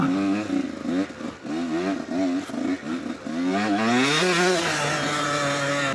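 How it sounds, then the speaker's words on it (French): A KTM or Husqvarna motocross bike engine revs up and down in repeated bursts, then climbs into a loud, sustained high-pitched whine close by. "J'espère qu'on entendra bien tout le son de la moto"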